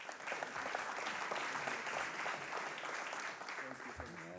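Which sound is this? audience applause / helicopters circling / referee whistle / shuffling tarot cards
audience applause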